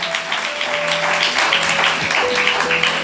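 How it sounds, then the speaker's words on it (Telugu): A church congregation claps during a sermon, producing sustained, fairly loud applause over held keyboard-like tones. "చప్పట్లు కొట్టి ప్రభువుని స్తుతిద్దామా?"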